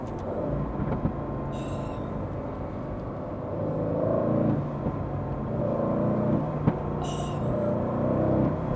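An Aston Martin Vantage sports car engine revs and rumbles steadily, rising in pitch now and then, with a couple of sharp crackling pops from the exhaust.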